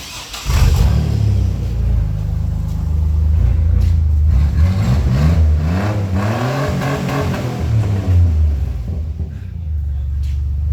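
A 1990s Chevrolet Blazer with its exhaust cut off rumbles loud and close, revving up and down in rough surges over a steady deep idle, with people talking briefly over it.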